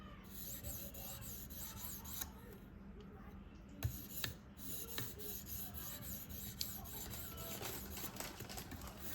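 A Spyderco Manix 2 knife blade being sharpened on a stone, with steady rhythmic rasping strokes close up, each stroke in the same direction, with a few sharper scraping clicks between them.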